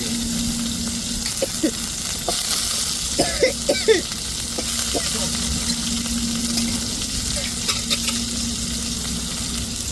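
Chopped tomatoes fry and sizzle in a pan for a spicy crab gravy, with a steady hiss throughout and occasional stirring clinks and scrapes, close and fairly loud, no talking.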